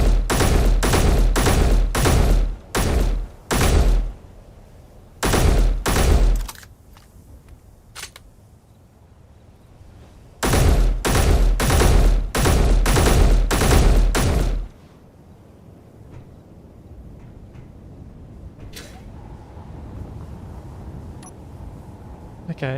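Bursts of loud, close weapon fire in the modded combat of the video game Space Engineers, with several rapid volleys early on, a long sustained barrage midway, then a quieter stretch with a few faint isolated shots.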